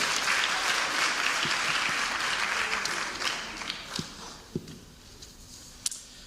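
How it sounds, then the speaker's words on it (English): Applause for a school field hockey team at a fall athletic banquet, steady and full at first, then thinning into scattered individual claps and a few sharp final hits. "And we give a round of applause to our field hockey team."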